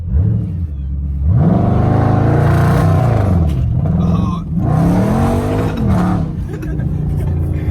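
A Hellcat engine revs hard several times, rising and falling in loud bursts close by, with a brief tire squeal.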